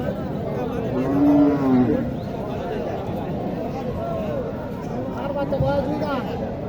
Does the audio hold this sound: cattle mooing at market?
yes